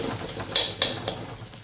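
Crushed unpeeled garlic cloves frying in a pan: soft stirring and a faint sizzle, broken by two or three light metallic clinks of a spoon against the pan, close and fairly quiet, with no voices.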